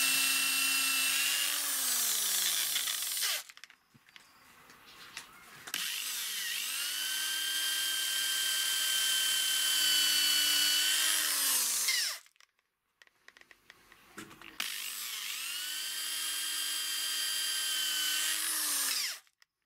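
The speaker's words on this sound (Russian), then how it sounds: "И сейчас будем сразу сверлить несколько планок" An electric drill whines through several stacked wooden beehive frame slats at once in two long bursts, its pitch dropping as it bites and rising again, separated by a short pause of handling noise.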